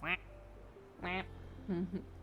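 Ducks quacking in a video game, three short nasal quacks spaced about half a second apart, loud and close, over a low steady hum.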